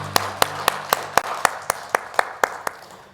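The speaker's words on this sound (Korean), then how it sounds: "우리 하나님께 영광의 박수 올려드립니다" About a dozen sharp, evenly spaced claps ring out in a church during a Korean Sunday worship service, loud and close over a low steady hum with no voice heard.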